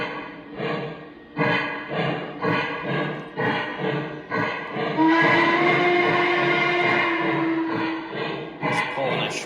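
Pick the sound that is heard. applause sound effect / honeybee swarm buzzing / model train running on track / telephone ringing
model train running on track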